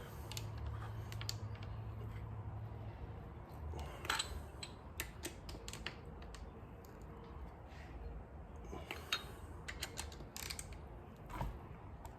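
A ratchet turns bolts a quarter turn on an Audi 2.0 TFSI engine block during a rebuild, producing faint, close clicking and creaking mechanical ticks scattered irregularly over low background noise.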